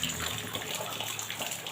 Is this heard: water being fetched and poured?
yes